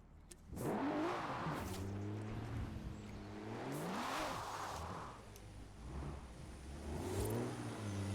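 Car engine in Forza Horizon 4 revving and wavering through pitch sweeps while drifting, loud and continuous with gear-like rises and falls across the whole stretch.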